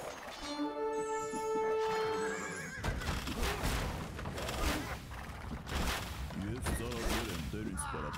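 Horses whinny in Age of Empires II, a long clear neigh at the start followed by clip-clopping hooves and game clatter, with someone talking over the later part.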